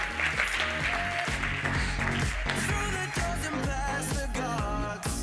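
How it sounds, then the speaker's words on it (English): Conference keynote audience clapping as a volunteer comes up on stage, steady applause blended under loud, rhythmic music with a thumping bass line. "Let's give her a round of applause."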